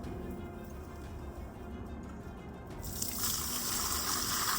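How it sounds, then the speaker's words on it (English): Water is tipped out of a garden bird bath, a quiet trickle that swells into a louder, steadier gush and pour near the end. "we're just going to tip out the water to begin with"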